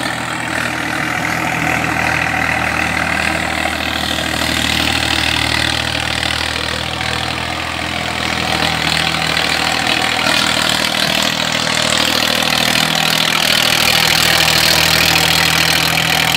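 A Swraj 960 FE tractor with 16-inch tyres and power steering roars steadily and loudly up close, its deep engine note holding constant with a slight swell toward the end and no one speaking.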